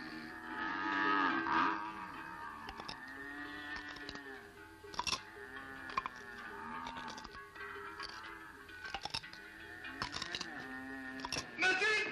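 A cow moos repeatedly in a 1950s French film scene, the long low calls recurring throughout over a busy soundtrack with music and a few sharp knocks.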